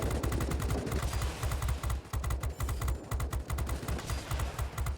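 Rapid machine gun fire from a tail gunner on a Tier X bomber in World of Warplanes, a dense continuous rattle of shots running throughout at steady volume with no talking.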